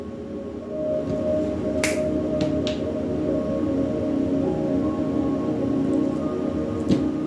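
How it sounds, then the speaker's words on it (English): A few sharp finger snaps ring out sporadically, two or three close together early on and another near the end, over a steady low hum. "Talk, snap my fingers."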